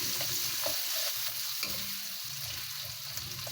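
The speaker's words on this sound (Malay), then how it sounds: "Kurangkan minyak goreng ikan tadi tu, masukkan serai, bawang yang dipotong tadi ya, halia" Lemongrass, onion, ginger and garlic hitting leftover fish-frying oil in a pan: a loud, dense, steady sizzle up close, broken by a few soft stirring scrapes, with no voices.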